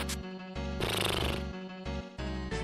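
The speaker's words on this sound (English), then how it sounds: "That is the sound of a not cursed ring." A short bright chiming video game treasure chest jingle of tones, loud and music-like, plays alone with no voices.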